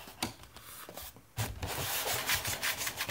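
A cardboard box being slowly slid open during a PC build unboxing, giving steady close-up rubbing and scraping with a short quieter pause before the friction picks up again and grows louder.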